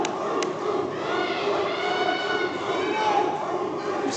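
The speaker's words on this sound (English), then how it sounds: "You hear this crowd, they definitely want it." Wrestling match crowd roaring and chanting in an arena, a broad sustained cheer under a commentator's voice.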